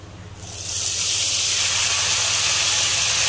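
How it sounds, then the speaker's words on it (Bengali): Spiced lentil mixture hits hot oil in a wok with a sudden loud, steady sizzle that swells within half a second and holds as a broad, continuous hiss, close and alone with no talking. "এবার দেখো আমি এটাকে কড়াইতে দেবো।"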